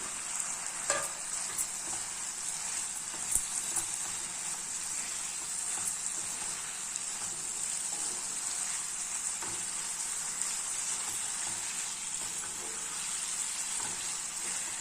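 Fried paneer sizzling in a pan for paneer pepper masala: a steady, bright frying hiss throughout, with occasional soft clicks and stirring scrapes, close and continuous.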